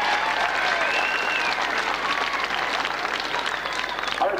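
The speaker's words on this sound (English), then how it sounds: "I would ask you please to give them a sincere round of applause" Crowd applause for sponsors at a county senior hurling championship final, sustained clapping from a large outdoor crowd with a faint voice and whistle-like tones threading through.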